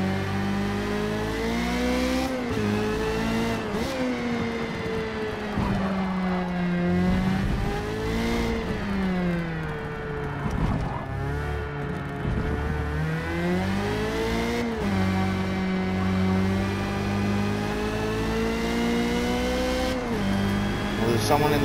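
Formula Mazda race car in Forza Motorsport at the Catalunya National Circuit, its engine revving steadily with rising and falling pitch through gear changes, loud and continuous, with a voice talking over it.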